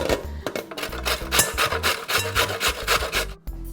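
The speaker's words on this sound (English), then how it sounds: "so basically we'll just go ahead and start grating" Raw carrots rubbed over a small hand grater, a steady close-up rhythm of rasping strokes for several seconds with a brief pause near the end, no talking.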